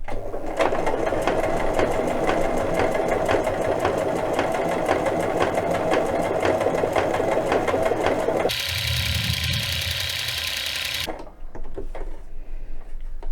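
A household sewing machine with a standard universal presser foot stitches close along a fabric edge, running loud and steady with a fast mechanical needle rhythm, then shifting to a different whirring tone before stopping.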